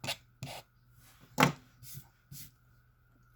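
A cutter slices quilt fabric along a ruler, producing about six short, close rasping strokes separated by quiet pauses, with one stronger scrape in the middle.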